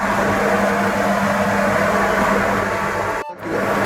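Dough fries in a pan as a steady, dense sizzle carries on at an even level, with a faint hum underneath and a brief dip near the end.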